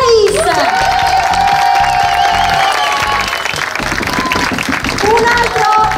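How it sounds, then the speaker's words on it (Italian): Audience applause for a singer at the Miss Venice Beach 2021 pageant stage in Sottomarina, Venice, loud and steady throughout, with music playing and voices mixed into the crowd noise. "Pubblico allora, un super applauso"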